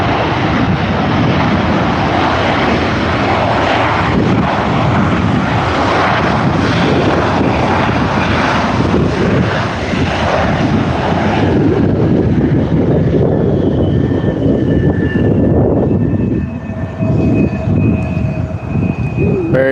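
A fixed-wing airplane touches down on a runway, with a loud, continuous engine and wind roar that holds for the whole stretch, then eases as a whining tone rises near the end; faint talk sits underneath.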